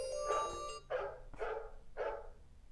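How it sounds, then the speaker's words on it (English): A phone alarm tone playing a short series of about four bright electronic chirps, the first held longer, each fading quickly, fairly quiet and without anyone talking over it. "That's my alarm."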